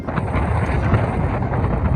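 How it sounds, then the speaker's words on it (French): Strong wind buffeting the microphone on the Mont Blanc summit ridge, a continuous loud rushing roar with gusty low rumble throughout. "Oh, le vent."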